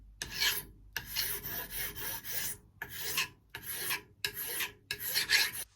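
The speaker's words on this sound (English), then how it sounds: "I'll make a couple of passes, I'll zoom in so you can see, and then we'll get finalised on the sandpaper" A Martin guitar saddle is rubbed flat against sandpaper in six steady rasping strokes with short pauses between them, close and fairly loud, with no voices.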